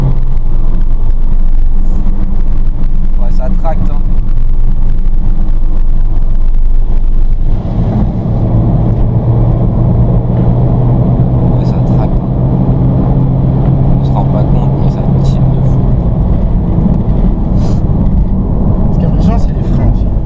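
A BMW with over 200 hp pulls hard under acceleration, its engine a loud, continuous drone inside the cabin that shifts up in pitch around the middle and holds strong to the end, with a voice speaking over it.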